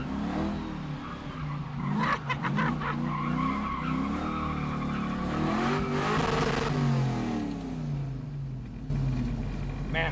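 An LS-swapped Camaro spins donuts in an intersection, engine revving hard and rising while the tires squeal and skid in long howling sweeps, loud and close, with a brief pause in revs near the end.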